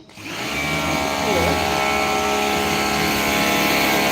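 A pressure washer used for vehicle washing drones loudly and steadily up close, a continuous mechanical whine that holds throughout with no pauses.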